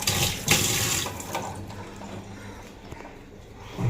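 Water runs from a tap for soaking something, a strong splashing gush at first that settles into a steadier, softer flow.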